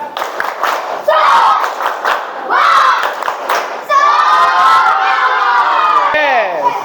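A classroom of children shouts and chants in loud bursts during an ice-breaking clapping game, with rhythmic clapping and thumps between the cheers.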